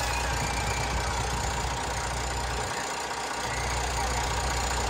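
A Freightliner Freightshaker truck with a Detroit 60 Series 12.7 engine runs steadily, a loud, close diesel rumble with a constant knocking drone throughout and no speech.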